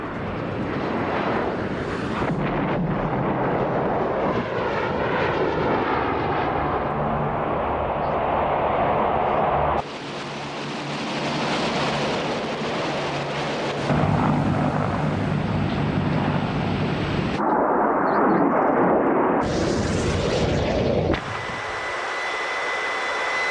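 Harrier vertical-takeoff military jets flying, a loud continuous roaring engine noise that shifts in character across several cuts, with no talk.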